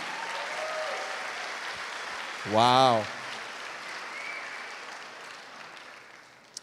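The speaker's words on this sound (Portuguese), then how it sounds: "Vamos aplaudir aí, gente." Church congregation applauding in a short burst of clapping, with an exclamation at the start, amid otherwise quiet room tone.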